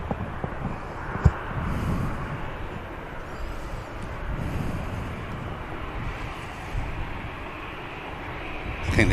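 An EasyJet airliner at Manchester Airport gives off a steady, broad roar of engine and wind noise at moderate distance, holding fairly even throughout with slight swells.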